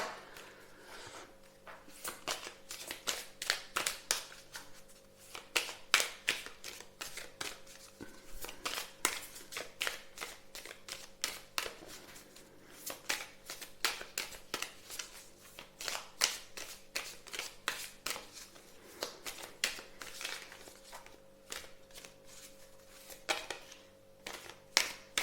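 An oracle card deck is shuffled by hand in a quiet room, with a long run of soft, rapid papery riffles and taps, close and faint, continuing in bursts with no talking.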